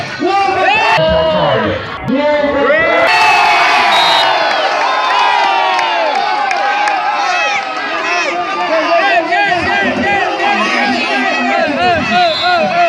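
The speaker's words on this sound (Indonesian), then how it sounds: "Kembali memadati sorak-sorai di lapangan Sakai" A crowd at the Sakai football field, at the Sakai Cup IV final, cheers and shouts loudly and continuously, many voices layered with whoops and children's yells in a constant roar.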